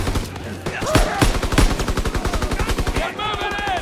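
Rapid machine-gun and rifle fire from a Call of Duty WWII battle at a bridge against SS troops, a dense rhythmic burst of shots running steadily for several seconds, loud and close, with shouted voices mixed in.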